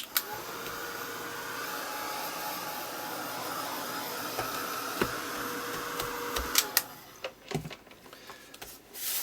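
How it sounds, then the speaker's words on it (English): A heat gun blows a steady, quiet whoosh over dry-brushed paint, then cuts off, leaving a few faint clicks and handling knocks. "just give it a once over with the heat gun"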